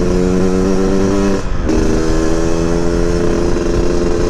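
A Yamaha RX King two-stroke motorcycle on a road in Banda Aceh, its engine droning loud and steady at high revs with a brief dip before picking back up.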